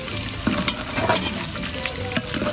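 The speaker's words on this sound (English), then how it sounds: "so now we are sauteing our onions inside the oil we fried our meat" Onions sautéing in the oil left from frying meat for a Ghanaian tomato stew, a steady close sizzle with a few sharp scrapes and clicks of stirring throughout.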